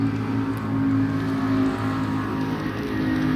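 Motorcycle engine running nearby, a steady droning hum with a strong low tone, holding constant for a few seconds with no talk.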